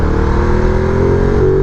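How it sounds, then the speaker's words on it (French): Ducati Multistrada V2S engine revving with a steady airbox intake roar, a continuous close, loud drone whose pitch climbs slightly near the end, with no voices. "Et puis on a cette espèce de bruit de boîte à air"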